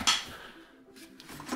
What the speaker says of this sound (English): But here's all your cutlery.